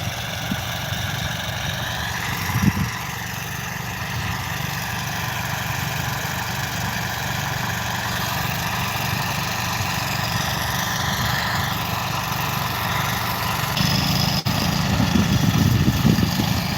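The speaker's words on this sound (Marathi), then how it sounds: "हे बघा पाठोपाठ दोन दोन ट्रॅक्टर आहेत" Steady drone of two tractor engines working a farm field, a low rumbling hum with slight shifts in pitch, moderately distant and without speech.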